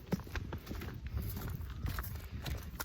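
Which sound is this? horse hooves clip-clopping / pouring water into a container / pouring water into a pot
horse hooves clip-clopping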